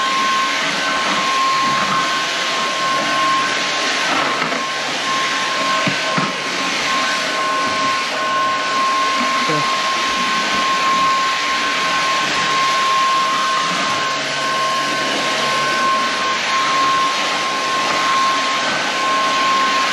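An Inse cordless vacuum cleaner runs continuously while cleaning corners at home, giving a loud, close, steady motor whine and airy rush that shifts slightly as the head moves, with no talking.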